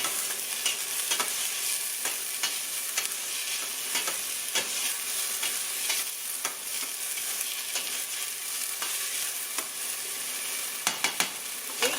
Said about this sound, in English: We got sizzle.